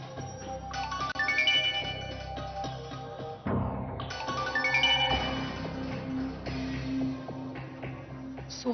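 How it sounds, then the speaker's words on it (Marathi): A phone rings indoors, its melodic electronic tone repeating over several seconds beneath background music. "आणि तो फोन वाजतो तो घे ना."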